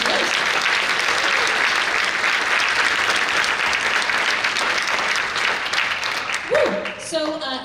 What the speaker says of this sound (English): So let's get a round of applause for all of our donations to Lowe's.